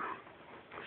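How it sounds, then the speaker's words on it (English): A pet dog makes soft sniffing and faint whimpering noises in the background of a quiet indoor room, low and continuous across the moment with no talk over it. "That's our dog in the background."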